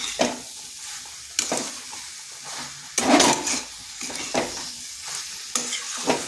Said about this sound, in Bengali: এটাকে একটু নেড়ে নিচ্ছি যাতে মশলার একটু কাঁচা গন্ধটা চলে যায়।